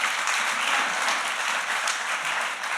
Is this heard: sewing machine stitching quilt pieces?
no